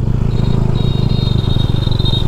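A motorcycle engine idles steadily and close by in a parking area at an entry gate near the Taj Mahal in Agra, a continuous low throb with a thin high whine over it.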